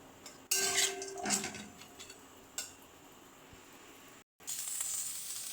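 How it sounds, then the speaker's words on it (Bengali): Potatoes and lentil bori frying in hot oil with cumin seeds, dried chillies and bay leaves, a steady close sizzle broken by bursts of spatter and clinks of a metal spoon against the pan, no talking. "আলুগুলো ভেজে নেব। আলু বড়ি একসাথে ভেজে নেব।"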